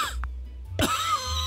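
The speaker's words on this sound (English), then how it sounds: "He has to cough." Character in the video game Manual Samuel coughing: a short splutter followed by a harsher cough, close and loud over a low game-music drone.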